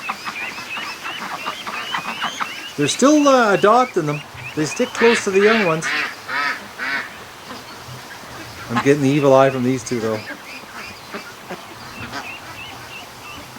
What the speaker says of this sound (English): The big gander right there in the middle of the ducks